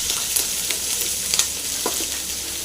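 Chickpeas, chili and garlic fry and get stirred in a pan, a loud, steady sizzle with scraping stirs and faint spatter ticks running throughout, no voices.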